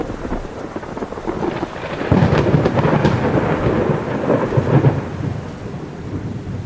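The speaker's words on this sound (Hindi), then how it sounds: "ये तुम्हारी पहली बारिश है।" Cartoon thunderstorm with steady heavy rain and deep rolling thunder that swells louder midway, no voices over it.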